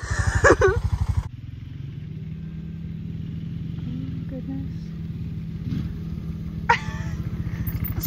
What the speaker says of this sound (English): successfully ridden the four-wheeler with the bear costume on.